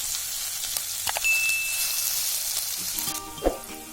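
Ginger paste and chopped green chillies sizzle steadily in hot oil in a pan, a continuous close frying hiss with a few faint clinks and a brief stir near the end.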